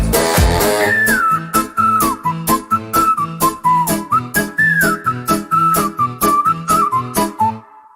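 Someone whistles a bright, lilting melody over a bouncy accompaniment with a steady, evenly pulsing beat, the whistled line gliding up and down clearly above the music throughout.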